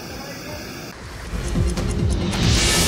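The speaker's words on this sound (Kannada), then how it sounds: "ಎತ್ತರವಾದ ಗುಡ್ಡದಿಂದ ಜಲಧಾರೆ ಧುಮುಕಿದೆ" Steady roaring rush of falling water, broad and continuous, swelling louder toward the end with some wind buffeting.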